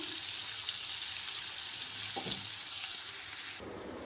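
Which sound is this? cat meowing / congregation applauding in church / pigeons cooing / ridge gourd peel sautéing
ridge gourd peel sautéing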